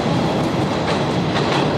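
A passenger train pulling out of a station in Sri Lanka early in the morning, a steady, loud rumble with faint clickety-clack of wheels on the rails and no voices.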